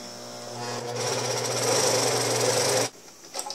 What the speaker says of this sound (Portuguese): E aí, a gente vai costurar.